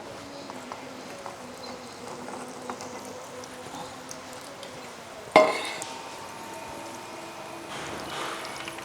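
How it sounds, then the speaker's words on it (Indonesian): A steady low buzz and clinks give way to a sudden sharp sizzle as rolled egg martabak hits preheated oil, then a continuing gentle fry. "Minyaknya udah dipanasin ya. Ini tinggal kita goreng aja gini."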